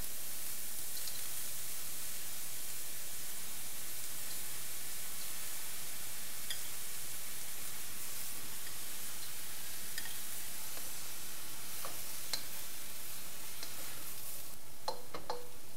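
Rice and peas frying in a hot pan give a steady, even sizzle that holds throughout, with a few soft clicks of stirring near the end.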